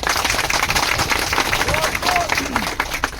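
A crowd at an outdoor political gathering claps in dense, rapid patter, loud and close, mixed with a voice speaking over the applause.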